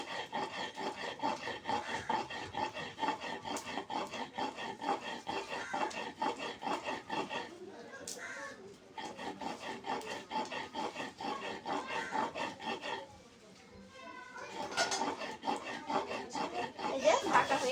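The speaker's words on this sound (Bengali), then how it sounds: "পেস্টটা আরেকবার বেটে নেব, আরেকবার মিহিন করে" Onion paste is ground on a grinding stone with a rhythmic, close scraping and rubbing of stone on stone. The strokes run steadily and break off in two short pauses.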